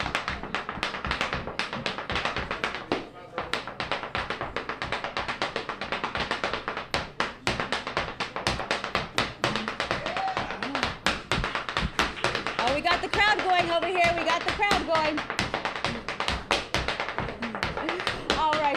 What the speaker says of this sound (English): I'm gonna dance a hard shoe dance. It's a treble reel.